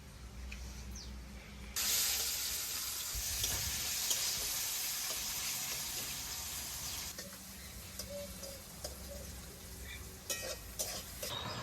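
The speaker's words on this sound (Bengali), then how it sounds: "পেঁয়াজটা লাল লাল করে ভাজা হয়ে গেছে" Onions sizzle in hot oil for a Bengali fish curry, the frying hiss surging loudly after a quiet start, then easing into a steadier crackle with some stirring clinks.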